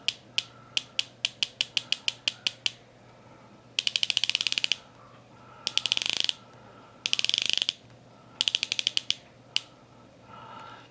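Rotating dive bezel on a SeL Instrument MK2 Omnidiver watch, crisp metallic clicks as the piston drops into each notch, first spaced slowly one by one, then in quick ratcheting runs, very close and isolated.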